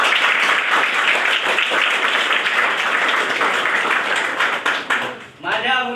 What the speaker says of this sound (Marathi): तुम्ही सर्वांनी टाळ्या वाजवून त्यांचं अभिनंदन करावं